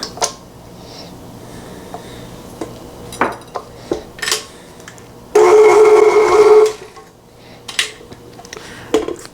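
Clinks and scrapes of a utensil against a mixing bowl while chocolate chip cookie batter from a mix is stirred, with a loud mixer whirring in one sustained burst midway.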